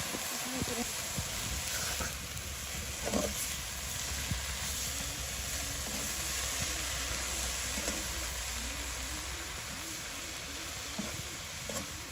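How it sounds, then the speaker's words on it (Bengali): Marish greens and small river shrimp frying together in a pan, a steady close sizzle and hiss with occasional stirring clatter, and a voice talking over it. "এখানে ইচা মাছগুলো ভাজা ভাজা হয়ে গেছে, এখন শাকগুলো দিয়ে দিলাম।"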